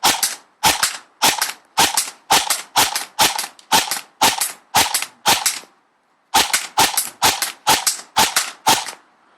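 A King Arms M4 CQB-R airsoft rifle fires semi-auto at a target about twenty paces off, a sharp series of close, crisp snapping shots at a steady rhythm, twelve in a row, a short pause, then seven more.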